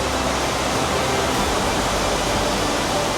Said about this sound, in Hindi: ये झरना कितनी तरफ से अलग अलग स्ट्रीम्स बन के